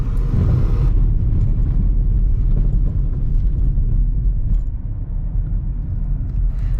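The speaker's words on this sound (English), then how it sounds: "So drive over it and see if you can hear any weird noises." A used car rolls over a rough road surface, giving off a loud, steady low rumble from the tyres and body with no voices and no clear knocks or rattles standing out.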